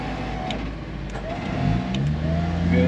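A stuck Jeep's engine revs steadily under light throttle during a winch recovery, a continuous mid-pitched drone that rises in loudness toward the end.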